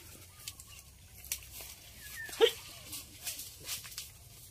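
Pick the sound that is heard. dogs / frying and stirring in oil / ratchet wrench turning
dogs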